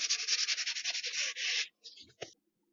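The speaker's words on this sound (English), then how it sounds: "I'm going to use my sandpaper again a little bit just to get that smoothed down" Close sandpaper rubbing along the edge of a painting in quick back-and-forth strokes, then a longer scrape, ending with a few short, lighter rubs before silence.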